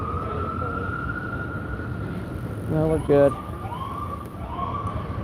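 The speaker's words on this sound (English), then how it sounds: "It's the ambulance." An ambulance siren wails in a rising and falling tone somewhere on 6th Street in Austin's party district, steady under street noise while people talk nearby, with a brief louder burst midway.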